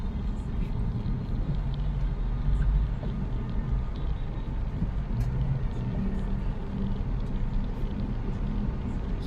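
Slow, heavy traffic crawls along wide Commonwealth Avenue, heard as a dense, continuous rumble of engines and road noise with faint scattered clatters, steady throughout and with no clear talk.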